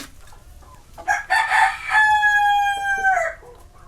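A rooster of Indian game-type breed crows once, a loud close call rising and holding a steady harmonic tone for about two seconds before dropping off, with faint background noise before it.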